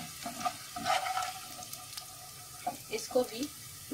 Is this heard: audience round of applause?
no